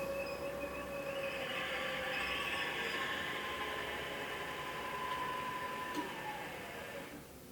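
A Supermax Proto-Trak CNC vertical mill spindle runs in low gear with a steady whining hum and layered tonal whirring, the pitch holding and then gently dropping as it winds down near the end, moderately quiet.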